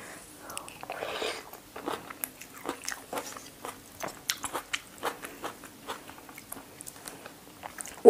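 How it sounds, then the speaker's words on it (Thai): Crunchy, spicy pounded chicken-feet salad with fermented fish sauce is chewed close to the mic, giving a run of sharp, irregular crunches and wet bites, with a soft, whispery voice in places. "ขาไก่ตีนไก่เลยนะคะ กลืนง่ายดีนะกรุบๆเลย"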